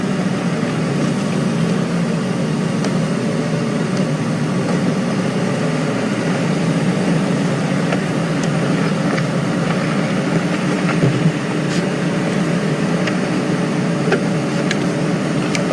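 A safari game drive vehicle idles with a steady low engine hum and vibration, moderately loud and unbroken for the whole stretch, with no voices over it.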